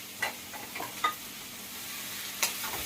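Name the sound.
vegetables frying and being stirred in a small wok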